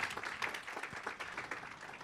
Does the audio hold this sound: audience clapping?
yes